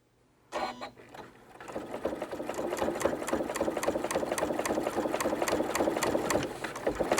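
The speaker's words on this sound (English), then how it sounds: "Now I'm going to stitch all the way around the rest of my seams that it framed my pictures in." A sewing machine stitches around the seams of a table runner: after a brief start-up clunk, the motor builds into a steady, close, rhythmic chatter of needle strokes that runs without any talk.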